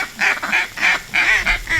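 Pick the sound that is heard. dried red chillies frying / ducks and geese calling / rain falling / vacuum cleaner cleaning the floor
ducks and geese calling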